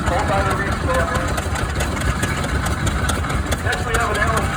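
Engine of a 1919 Case 20-40 antique tractor running steadily at a parade, a continuous rumbling idle close by with crowd noise in the background.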